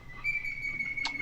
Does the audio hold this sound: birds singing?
yes